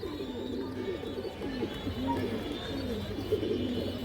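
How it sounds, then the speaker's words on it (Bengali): A Khoragola pigeon keeps up a continuous low burbling coo, close and fairly steady, with other soft coos overlapping in the background. "খরাগলা কবুতর এই যে দেখেন"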